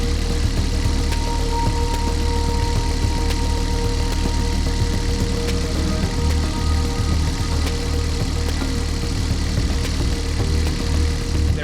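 A sailboat's inboard engine at the dock, running with the throttle raised, giving a steady, loud, even drone with a constant low thrum and no break for the whole stretch.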